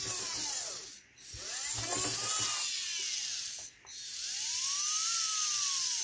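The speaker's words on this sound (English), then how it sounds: "this servo goes through multiple complete rotations as it changes direction and speed" A continuous rotation servo motor driven by an Arduino whines steadily as it spins, its pitch sweeping up and down and twice dropping nearly to silence when it reverses direction, close and alone.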